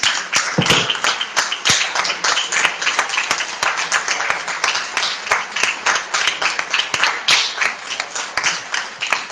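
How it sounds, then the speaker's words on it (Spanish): Audience at a book fair applauding the artists, with dense, rhythmic clapping sustained at an even level for several seconds, close and lively, with no speech over it. "un aplauso a los artistas"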